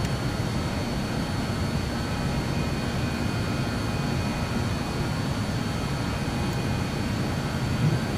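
A Just Flight RJ jet in Microsoft Flight Simulator 2024 climbing after takeoff, a steady loud roar of engines and airflow with faint whining tones, unbroken throughout.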